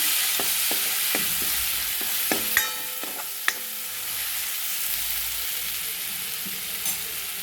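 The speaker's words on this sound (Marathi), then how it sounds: "ते छान लालसर होईपर्यंत आपल्याला भाजायचं आहे" A paste of coconut, garlic, ginger and coriander fries and gets stirred in hot oil, giving a steady soft sizzle with a few sharp clicks of a spoon against the pan.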